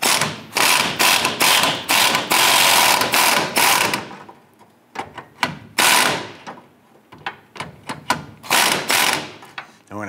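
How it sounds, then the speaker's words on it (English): A deep 15 mm socket on a ratchet loosens the nut on the front fuel tank strap of a 2002-2008 Dodge Ram 1500, giving rapid close clicking bursts with short pauses and a few thuds in between. "using a deep 15 millimeter socket, we're gonna go ahead and loosen the nut on the front strap"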